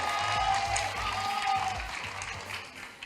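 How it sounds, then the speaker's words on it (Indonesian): Audience applause at an Indonesian talk show about influencers, a steady wash of many hands clapping at moderate volume, with faint tonal and low background sounds mixed in. "boleh tepuk tangan?"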